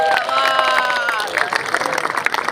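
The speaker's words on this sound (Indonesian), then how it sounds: "Tepuk tangan untuk para santri." Applause and crowd noise for the santri at a National Santri Day ceremony, a broad wash of clapping that stays steady and then breaks into choppier, uneven bursts toward the end.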